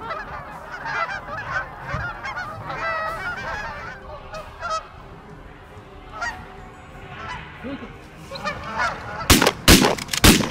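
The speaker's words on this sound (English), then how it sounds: "We had a great flurry of activity of geese." Geese honk repeatedly during a waterfowl hunt in snowy country, a flock calling in overlapping cackles at moderate distance, ending with loud shotgun blasts.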